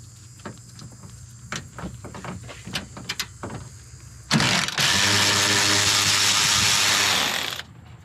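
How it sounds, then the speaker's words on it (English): A hand ratchet loosens 12mm radiator mount bolts on a 2010-2014 Subaru Outback, giving a run of quick clicking strokes and then a long buzzing ratchet spin up close. "take our two 12mm headed bolts out up top for the radiator mount."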